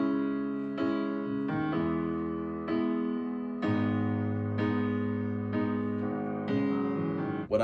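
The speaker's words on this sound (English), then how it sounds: "It's a modeling plugin from an old piano that was used on 70s," Grand Rhapsody modeling plugin recreating an old piano heard on 70s and 80s records, played via MIDI: a series of sustained chords, each struck cleanly and left ringing, alone with no voices.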